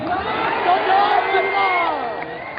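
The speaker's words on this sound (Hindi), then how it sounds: "यहां पे मैं देख रहा हूं 25-30 हजार की भीड़ आ गई है।" A large crowd of tens of thousands at an outdoor election rally in Jehanabad, Bihar, roaring and cheering loudly and continuously, with whoops and shouts blending into a dense wash of voices.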